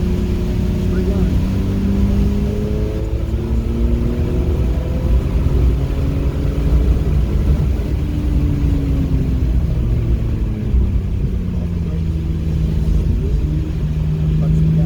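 A race car engine accelerating on a track in the rain, its drone rising and falling in pitch through gear changes under a constant rumble, with someone talking over it.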